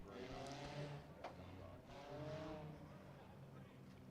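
USAC national sprint cars race around Lawrenceburg Speedway, their engines droning steadily with rising and falling passes. A commentator talks over the racing.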